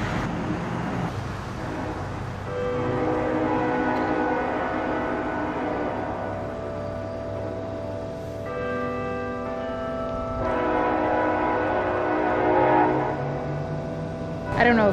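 A train goes by in Baxter Springs, Kansas, on Route 66, with sustained horn blasts over a steady rumble while church bells ring in the same town.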